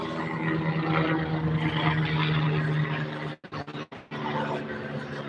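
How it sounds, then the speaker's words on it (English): A helicopter flies overhead with a steady, droning engine hum and rumble. The drone briefly cuts in and out near the end, then resumes. "those black helicopters?"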